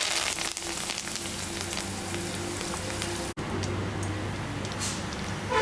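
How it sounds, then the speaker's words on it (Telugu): Mustard seeds spluttering in hot oil, a fine crackling hiss with scattered pops like rain, brief dropout midway, then continuing steadily nearby. "వీటిని వేసి ఆవాలు చిట్టుపట్టలాడేటంత వరకు ఫ్రై చేయాలి"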